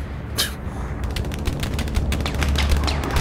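Rapid rifle and machine-gun fire crackles in dense bursts from a trench battle in the Hell Let Loose war game while a bombing run comes in. The shooting is loud and continuous, with sharp reports scattered throughout.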